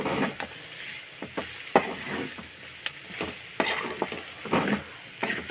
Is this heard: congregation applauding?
no